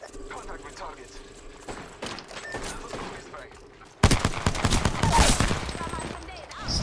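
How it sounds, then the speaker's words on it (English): Rapid pistol shots in Apex Legends burst loud and close, a quick run of sharp cracks after a quieter stretch of game noise and scattered clicks. "I killed him with a pistol!"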